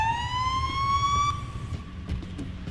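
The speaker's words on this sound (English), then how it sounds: "That's a siren, let's get out of the car." Police car siren in the Police Simulator video game, a single rising wail that cuts off after about a second, followed by quieter engine rumble and faint clicks.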